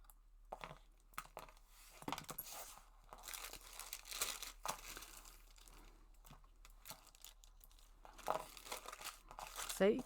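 Paper foundation piece for a Christmas tree quilt block being folded back and handled, giving close, intermittent crinkling and rustling with soft taps, steady and moderately quiet with no talking.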